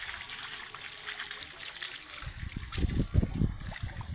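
Water running over a rooftop terrace being washed down, faint trickling at first and then louder splashing and spattering near the end, no talk.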